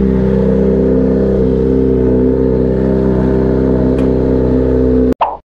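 A Yamaha Sniper ABS motorcycle engine idles steadily and close after starting, with a smooth even hum that breaks off abruptly near the end.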